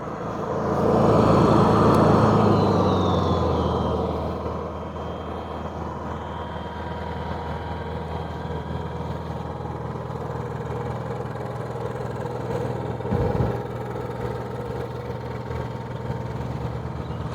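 A Honda EU7000is 7000-watt inverter generator runs with a steady, fairly quiet mechanical hum nearby, louder for the first few seconds and then settling into an even drone.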